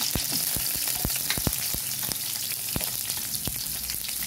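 White onion fries in hot oil in a pan, a close, steady sizzle broken by frequent sharp crackles and pops, with no speech.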